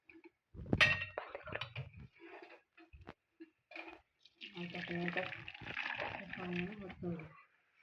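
Water draining out of cooked food held in a slotted ladle, a short splash followed by a steady trickle and dribble, with a voice talking over it.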